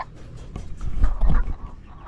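Chickens cluck softly nearby in a brief burst of low, throaty calls amid farmyard background noise.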